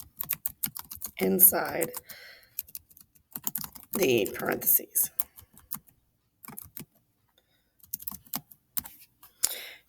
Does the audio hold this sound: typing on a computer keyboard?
yes